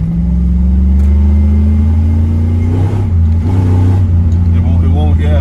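A Chevrolet Silverado with a built 4L60E transmission idles loudly and close, its engine note climbing steadily as it revs, while people talk over the rumble.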